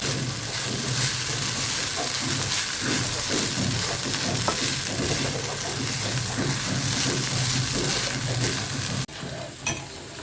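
Flattened rice (chira) frying in ghee over medium-high heat, a loud continuous sizzle with steady scraping and stirring throughout, briefly dropping near the end, with no talk.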